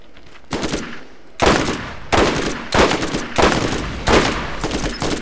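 Loud repeated bursts of automatic weapon fire in the shooter game Borderlands, five or six heavy volleys in fairly even rhythm, each lasting under a second, with no talk over them.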